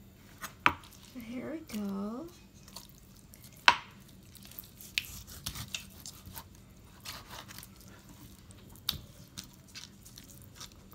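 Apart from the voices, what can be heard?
knife cutting chicken breast into small slices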